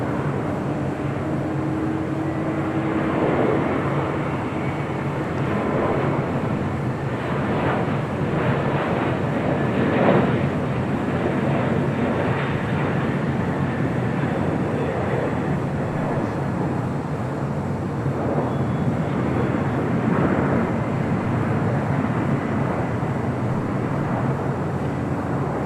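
Delta heavy jet departing LAX on runway 24 left, a sustained broadband jet roar with low rumble that swells and fades slightly over time, heard from a distance without talk.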